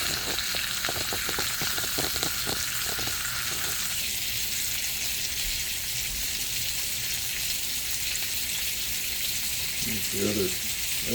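Steak searing in a cast iron pan gives a steady, loud sizzle that runs the whole way through, with crackling pops early on and a brief burst of spatter near the end.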